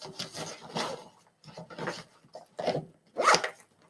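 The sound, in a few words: zipping up backpack pockets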